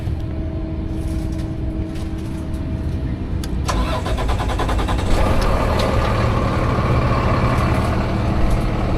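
An RV engine cranks and catches around the four-second mark, then settles into a steady, loud mid-pitched idle with a faint background hum before it, no voices.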